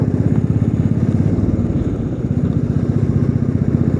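A motorcycle rides along the road toward Pamba, its engine droning loud and close with a steady pulsing rumble throughout, nothing else audible over it.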